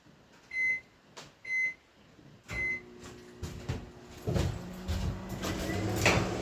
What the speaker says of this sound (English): I'm going to go turn the microwave on.